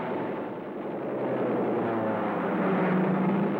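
German WWII dive bombers support tanks flanking the Maginot Line, their aircraft engines a loud, sustained, broadband roar that swells slightly and holds steady throughout, with no voices.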